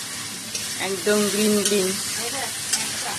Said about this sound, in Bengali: পনিরের জন্য মটরশুঁটিও ভেজে নেওয়া হচ্ছে